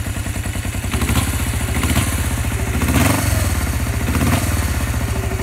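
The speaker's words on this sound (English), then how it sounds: "but this engine actually sounds good." A Suzuki GS400 motorcycle engine runs near the microphone with a fast, regular pulsing rumble and light clatter, rising slightly in revs a few times.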